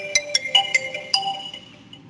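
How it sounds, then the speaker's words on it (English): A phone ringtone plays alone, a series of bright electronic tones in a quick stepped pattern that then fades away. "Phone ringing."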